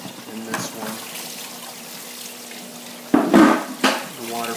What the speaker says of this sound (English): the water flows from that barrel